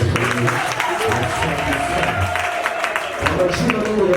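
Applause with some crowd noise at a community association's 11th anniversary celebration in Uvira, steady clapping throughout with voices mixed in.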